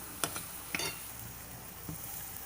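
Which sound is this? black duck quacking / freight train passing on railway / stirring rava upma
stirring rava upma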